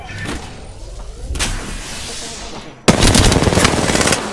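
Rapid automatic gunfire in a shooter video game, loud bursts in two bouts, with a sharp, denser volley kicking in near the end and continuing steadily.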